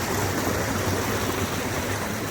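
Clear mountain stream water flowing in Chhitkul village, a loud, steady rushing gurgle heard close up with no pauses and no voices.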